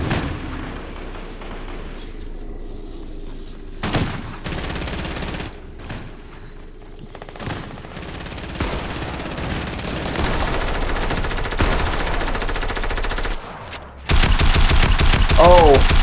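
Rapid bursts of automatic gunfire from the video game Fortnite crackle through a long stretch, with repeated volleys, some loud and near, building to a dense final barrage.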